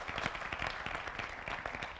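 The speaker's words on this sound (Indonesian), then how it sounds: "Tepuk tangannya." Scattered, somewhat distant clapping from an audience at an Indonesian community event, a steady patter of many hands throughout.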